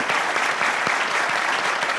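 A live studio audience applauds a Christmas band at a children's evergreen holiday special, dense continuous clapping filling the room, loud and close, with no voices over it.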